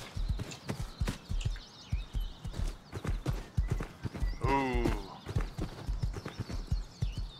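Horse hooves clip-clop in a quick steady rhythm in a video game, with a single loud whinny in the middle of the run.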